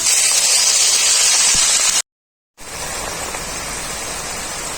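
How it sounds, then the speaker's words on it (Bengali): Water is poured into sizzling spice masala in a pan, producing a loud, dense hiss and crackle that runs steadily, cuts out briefly, then resumes at a slightly lower level, close and with no talking. "এখন আমি এর মধ্যে দিয়ে দেবো পরিমাণ মতো জল"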